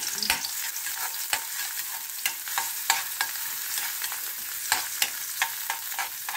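Oil sizzles steadily in a pan with garlic sautéing while a utensil clicks and scrapes against it now and then, close and fairly loud.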